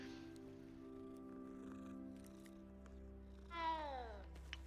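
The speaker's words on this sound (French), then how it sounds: "Oh un chat!" A cat meows inside the Hogwarts Legacy video game: one brief rising-falling meow near the end, heard over a steady droning musical hum of the game's background score, with no talking.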